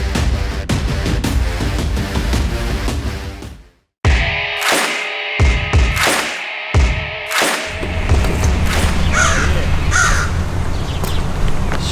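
Crows caw loudly and close by in repeated harsh bursts, spaced irregularly, with a short pause partway through.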